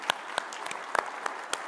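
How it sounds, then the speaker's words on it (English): Sparse, scattered claps from a small conference audience at a broadband fireside chat, a handful of distinct hand claps rather than a full ovation. "let's give a round of applause to the NTIA staff"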